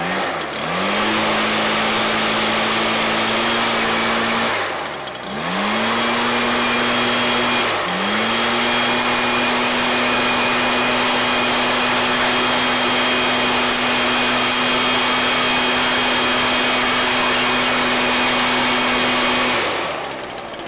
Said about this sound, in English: So we'll get this blower going and show you how that works.